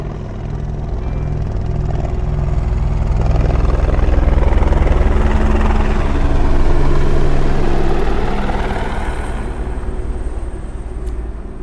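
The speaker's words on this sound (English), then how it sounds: "there is a helicopter flying right above my head" A helicopter flies low overhead, its loud, steady rotor and engine roar filling the whole stretch, swelling to a peak midway and easing slightly toward the end, with no talking.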